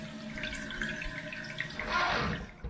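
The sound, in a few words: toilet tank refilling with water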